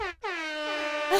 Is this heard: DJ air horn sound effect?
yes